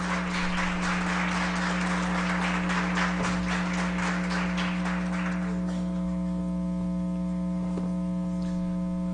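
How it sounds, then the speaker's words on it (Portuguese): Audience applause welcoming a lecturer at a history talk in Divinópolis, a brief patter of clapping in the first half that dies away, with a strong steady electrical hum persisting throughout. "Convido então, com uma salva de palmas"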